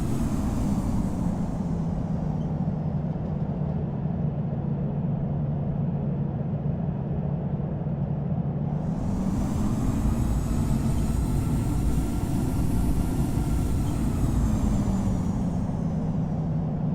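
In the Infinite Flight game, a Ryanair jet taxis to runway 27 left at London Heathrow with a steady, loud engine drone. A brighter whine swells in partway through.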